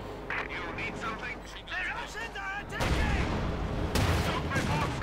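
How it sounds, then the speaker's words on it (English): Field gun bombardment and mortar fire in a Company of Heroes 2 match, heavy thumping blasts and rumbling explosions that swell midway, heard beneath a commentator talking throughout. "Field gun bombarding now, high pressure shells being lobbed across the sky. Stu firing back. Mortar fire."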